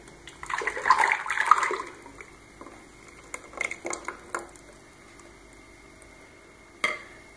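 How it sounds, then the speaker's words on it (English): A strawberry black sambuca sorbet mixture is poured into an ice cream machine, giving a brief liquid splashing run that fades into a few small clatters and knocks of the machine, with one sharper knock near the end. "And now our mixture goes into the machine."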